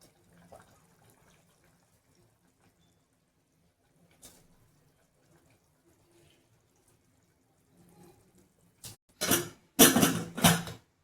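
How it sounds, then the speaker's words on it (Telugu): Four cups of water are poured into a pressure cooker while making mushroom biryani. After a long near-silent stretch with faint clinks, a loud, close splashing pour bursts out in the last two seconds. "ఇప్పుడు అదే బౌల్తో 4 కప్పులు నీళ్ళు అయితే మనం కుక్కర్లోకి అయితే పోసుకుందాం"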